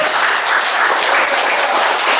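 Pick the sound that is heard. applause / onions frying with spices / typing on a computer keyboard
applause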